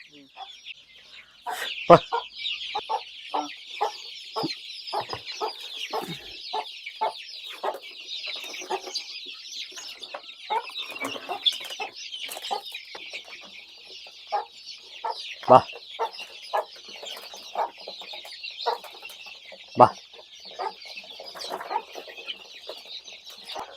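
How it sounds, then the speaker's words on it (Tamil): Thirty-five-day-old chicks cluck and peep steadily in a flock on a farm during rain, with many short overlapping calls and occasional louder squawks close by. "இது முப்பத்தஞ்சு நாள் குஞ்சுங்க"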